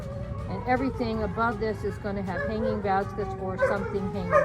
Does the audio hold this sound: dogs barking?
yes